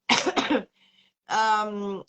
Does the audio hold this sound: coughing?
yes